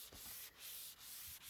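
Hand sanding a coffee table top with 230 grit sandpaper: a faint, steady scratchy rubbing in quick back-and-forth strokes with short dips between them, close and quiet, with no talking.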